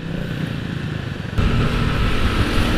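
A small scooter engine with an aftermarket loud exhaust runs loudly up close, its exhaust note jumping to a harsher, louder roar midway as the throttle opens.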